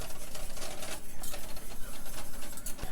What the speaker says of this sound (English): Whisk this together. Make sure that brown sugar gets incorporated into the sauce.